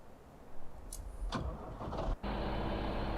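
A John Deere 4755 tractor engine in Farming Simulator 2015 runs with a steady, close broadband rumble, broken by a few brief clicks and one short dropout near the end.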